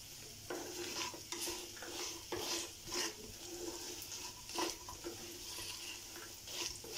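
Fried chickpeas with garlic masala being stirred and sautéed in a pan over medium-high heat, with a steady soft sizzle and repeated scraping stirs at an irregular rhythm, close and moderately quiet, with no talking.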